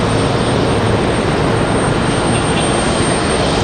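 A Frontier Airlines jet airliner moves at Raleigh-Durham airport, with a loud, steady broadband engine roar heard close and alone.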